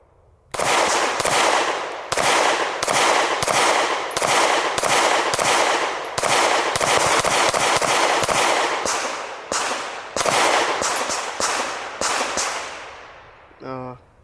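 Rapid, loud gunfire from a Springfield Prodigy 1911 DS pistol, a long run of close, sharp cracks in quick uneven succession that continues for several seconds before stopping.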